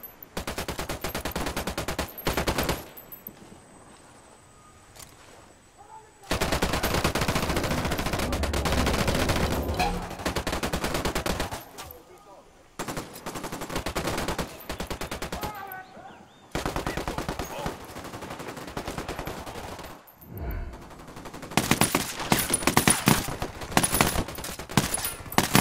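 Bursts of automatic gunfire from Ghost Recon Wildlands, loud and sustained, in several long volleys separated by brief pauses, with scattered single shots and faint voices between them.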